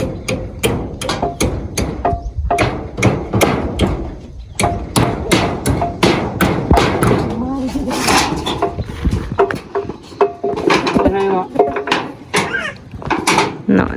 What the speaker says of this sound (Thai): ให้เพิ่นตอกอันสังกะสีปิดนะให้น้องโมเนาะ